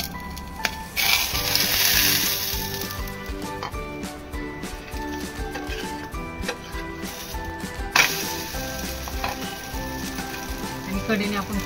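Rajgira thalipeeth, a fasting flatbread made with amaranth flour and greens, frying in ghee in a kadhai: a soft crackling sizzle that flares up loudly twice and settles into a low hiss in between.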